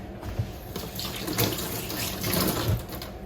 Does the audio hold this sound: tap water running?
yes